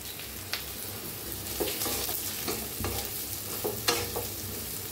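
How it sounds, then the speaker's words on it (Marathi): Okra frying in hot oil and being stirred in a pan, a steady close sizzle with scraping strokes of the spatula at irregular intervals, no voices. "तेलात आपण भेंडी भी भाजून घेऊया"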